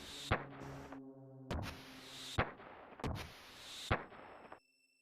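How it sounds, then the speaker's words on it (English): Fireworks go off in the video game Radical Dreamers: five sharp synthesized bursts in an uneven rhythm, some followed by ringing electronic tones, then abrupt silence. "We looked up to see fireworks."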